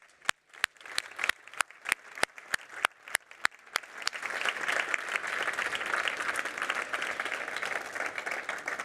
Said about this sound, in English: Big hands of applause.